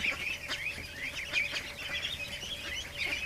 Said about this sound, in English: What a mess of ducks.